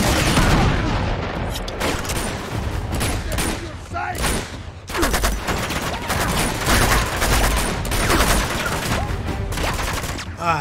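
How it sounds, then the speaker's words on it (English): Enemies fire guns in the video game Uncharted 2, set in war-torn Nepal, with a loud, steady fusillade of rapid gunshots and booms while a player talks over the firefight. "They all immediately started shooting at me"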